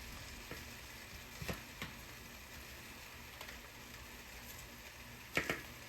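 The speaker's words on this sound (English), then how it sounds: "Gonna go ahead and get that meat started. Get it brown." Ground meat browning in a pan for chili, a faint continuous sizzle with occasional soft scrapes and stirring knocks, the loudest pair of scrapes near the end; no voices.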